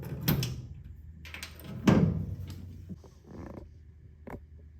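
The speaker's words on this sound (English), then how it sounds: "twist again, and the latch will lock" A key latch on an OMTech Pronto laser cutter panel is twisted and locks, giving a few close, faint clicks and creaky mechanical clunks with short pauses between.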